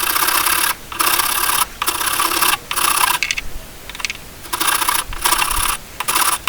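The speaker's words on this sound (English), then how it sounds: "using a wood rasp here" A wood rasp files a wooden piece in repeated long strokes, each harsh scraping pass separated by brief pauses, steady and close with no talking.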